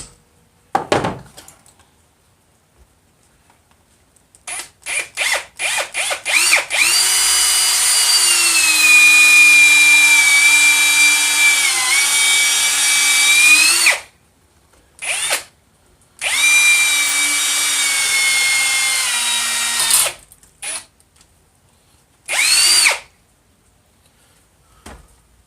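Power drill boring a hole into a wood blank on a lathe, a loud steady whine running in long bursts with short stops between and a couple of brief final spurts.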